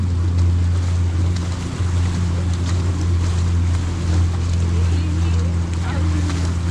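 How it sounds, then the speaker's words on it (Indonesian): Strong waves and wind buffet a small boat out on Ambon Bay, a constant loud rushing roar with a steady low motor drone beneath it and no pauses. "Ombak kuat nih."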